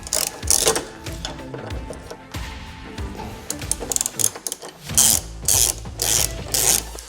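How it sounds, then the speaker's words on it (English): A socket wrench ratchets in quick bursts of clicking while removing a Torx bracket bolt on a RAM ProMaster City van door, close and clear with short pauses between strokes. "I just have a socket wrench here to remove it"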